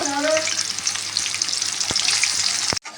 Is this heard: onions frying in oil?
yes